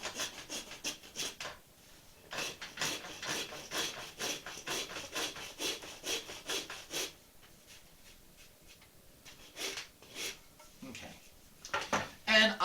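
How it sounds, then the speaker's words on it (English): A hand saw cuts rhythmically through wooden dowel tops on a carved canvasback duck decoy, quick rasping strokes in bursts with pauses between, close and fairly crisp. "I'll just take the tops off of those dowels"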